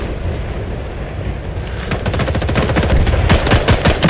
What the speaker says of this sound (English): As soon as that fire goes down